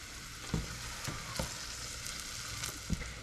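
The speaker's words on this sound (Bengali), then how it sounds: "একটু ভালোভাবে ভাজা হবে রসুনগুলো, লাল লাল করে" Garlic frying in oil gives a steady, faint sizzle and crackle, broken by a few soft clicks and stirring knocks.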